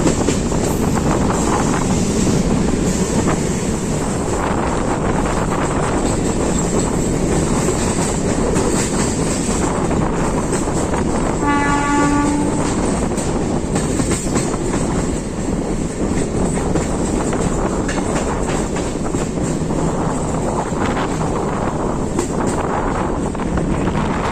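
Tejas Rajdhani express thundering past at speed, a loud sustained roar of rolling wagons with clickety-clack wheel beats and heavy wind buffeting the microphone, close by for the whole stretch without speech.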